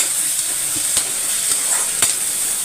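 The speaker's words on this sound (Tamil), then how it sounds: "இப்போ இது ஒரு பக்கம் வதங்கட்டும்" Vegetables sauté in a hot pan with a steady, loud, hissing sizzle and a few faint stirring scrapes, with no talking.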